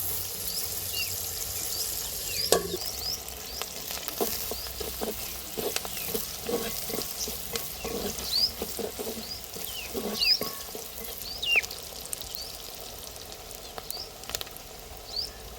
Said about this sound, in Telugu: ఉల్లిపాయ ముక్కలు ఎర్రగా వేగితే బాగుంది.